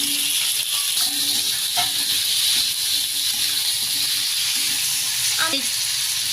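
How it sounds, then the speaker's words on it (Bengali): Cut raw potatoes being added to baim fish already fried until reddish in hot oil, a loud, dense, continuous sizzle and hiss with a few faint scraping touches. "এখন আমি এর মধ্যে কেটে রাখা আলুগুলো দিয়ে দিব"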